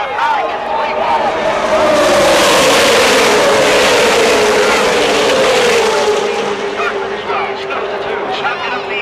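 NASCAR stock cars racing side by side at Talladega in 2006, a loud roaring pack of engines sweeping past with a falling pitch, crowd noise beneath and a commentator talking over it.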